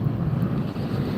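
Steady wind buffeting the microphone at Las Vegas airport on a sunny day, a low rumbling roar filling the short stretch with no other clear sounds.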